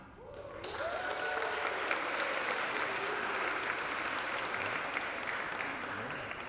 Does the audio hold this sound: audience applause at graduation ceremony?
yes